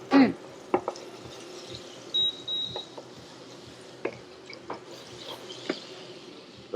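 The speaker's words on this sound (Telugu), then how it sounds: "ఇప్పుడు చికెన్ కుక్ చేస్తున్నాము." Marinated chicken cooking in about 10 grams of butter in a pan at a cafe kitchen, a faint low sizzle under scattered clinks, stirring taps and a brief electronic beep.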